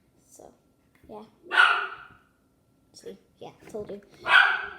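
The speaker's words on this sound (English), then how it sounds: "My dog's barking" A pet dog barks a couple of loud, close barks in a home setting, under and between casual speech from a person nearby.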